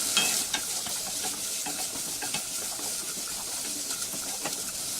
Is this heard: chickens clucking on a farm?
no